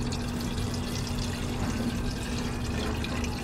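Water pouring steadily into a Kelly Kettle bottle, a close, continuous splashing fill with gurgling liquid and no talking.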